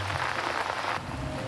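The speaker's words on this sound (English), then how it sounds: "Well, it looks like there's rain coming." Rain falls steadily in swampland near the South Alligator River, making an even, close hiss of drops that continues without a break.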